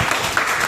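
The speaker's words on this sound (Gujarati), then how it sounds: "જોરદાર તાળી ધાત્રીબેન માટે." An audience claps for Dhatriben after a Gujarati alphabet song performance, giving a short, dense burst of steady applause with no voices over it.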